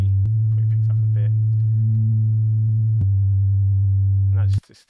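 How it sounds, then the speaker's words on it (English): Very low sub-bass sine tone near 80–90 Hz for drum and bass, a steady sustained hum with faint higher harmonics, briefly shifting pitch partway through, then cutting off abruptly near the end. "You can see it's this very low sine wave here, around 80, 90."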